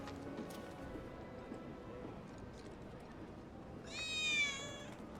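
A cat meows in Final Fantasy VII Remake, one short rising-and-falling meow near the end of the clip over a steady murmur of game ambience.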